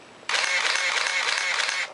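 A Canon EOS camera's shutter fires in a rapid continuous burst for about a second and a half, a dense, steady run of close, loud mechanical clicks with no voice over it.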